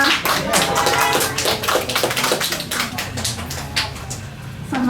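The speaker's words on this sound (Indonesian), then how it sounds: "Tepuk tangan buat Ibu Hana" Applause from a small audience at an Indonesian book discussion welcoming a guest, a few people clapping close by in a scattered, uneven rhythm.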